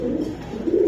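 Pigeons for sale give loud, close, deep cooing in two swelling bursts, a throaty rumble at the start and again near the end.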